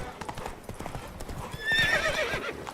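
Roach, a horse in The Witcher 3: Blood and Wine, gallops with rapid clip-clop hoofbeats and then gives a bright whinny near the end, close and loud.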